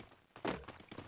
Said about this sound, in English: the footsteps are now drawing closer and closer to team number 3